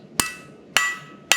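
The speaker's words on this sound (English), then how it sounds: "the dings of the hammer are between each stroke" Three evenly spaced blacksmith hammer blows on hot metal during forging, each a loud sharp clang ringing out into a bright metallic tone that fades before the next strike, close and without talk.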